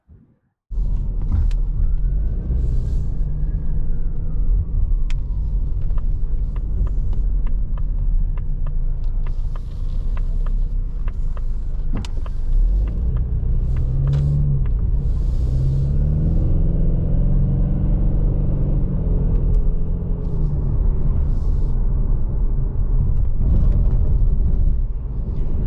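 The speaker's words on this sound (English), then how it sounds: "we're out on the road in this 25 Mustang EcoBoost in molten magenta metallic" A rear-wheel-drive 2025 Ford Mustang EcoBoost in molten magenta metallic cruises on the road, a steady interior rumble and engine drone that swells as it accelerates, with a few faint clicks.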